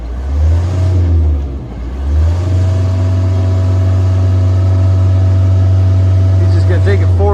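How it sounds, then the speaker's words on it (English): Deutz diesel engine on a 1999 JLG 600S boom lift with about 6,350 hours, running loud and close with a steady low drone that dips briefly then settles into an even idle, voices talking over it. "It does have a Deutz diesel motor"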